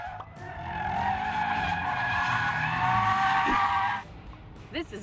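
Race car tyres screech in a long, loud skid at the BMW Performance Driving Center, with an engine growling underneath, before the squeal cuts off abruptly near the end.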